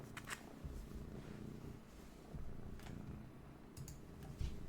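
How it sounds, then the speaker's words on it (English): A pet cat purring close and quiet in a steady low rumble, with light clicks and taps of handling cards or objects in the background during a Lorcana card game match. "My cat's joining us."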